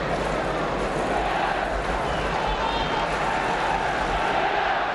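A football crowd at an Arsenal versus Swindon Town match applauds Swindon player Samuels, a dense, steady roar of clapping and crowd noise that stays loud and unbroken throughout.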